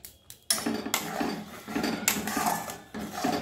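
A spoon clinks and scrapes against a pan while egg curry with sour yogurt is stirred on a low gas flame, giving close, repeated metallic taps and scraping in a steady rhythm.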